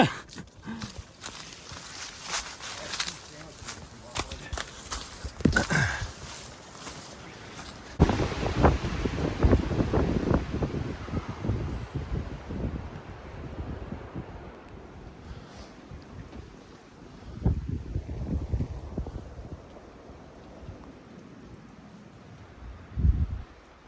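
Strong gusts on an exposed mountain trail in Linville Gorge roar and buffet the microphone in uneven surges, loudest in the first half and easing later, with a few sharper bursts and knocks.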